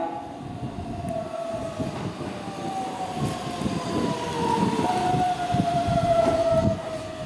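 A Keihan electric train arriving at Hirakata station, a steady rolling rumble of wheels and motors that builds gradually, with a long high brake or rail squeal running across it and no talk.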